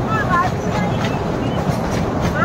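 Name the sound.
train at Elephanta caves arriving at station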